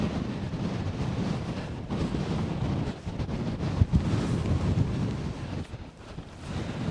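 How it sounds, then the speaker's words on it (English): Strong gusting wind buffets the microphone on the exposed 863-metre summit of Whiteside in the Lake District, a loud continuous rushing roar that surges and eases unevenly for several seconds with no voices. "And that wind is blowing a hoolie."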